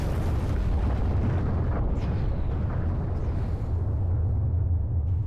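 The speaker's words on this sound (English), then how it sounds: "The way that they impact and actually like leave a big snow explosion." Huge spires crash down in a Halo 3 multiplayer map, throwing up a big snow explosion: a loud, sustained, deep rumbling blast that roars continuously for several seconds.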